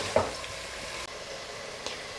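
Tomatoes cook down in a pan for vegetable dum biryani, giving off a steady, soft sizzle with a couple of faint utensil taps.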